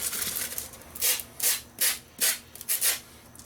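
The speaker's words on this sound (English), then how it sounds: "But I have a sanding sponge" A sanding sponge rubs across a carved wig head skull in short, rhythmic strokes, each one a bright, close, raspy scrape separated by brief pauses, with no talking.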